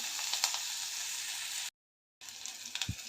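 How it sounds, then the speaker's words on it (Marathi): Chopped onion sizzles softly in a hot pan while roasting for a vegetable khichdi, a steady faint crackle with a brief gap and a few louder stirring knocks near the end. "एक दोन मिनटं भाजून घ्यायचं आहे कांदा भाजून झालेला आहे"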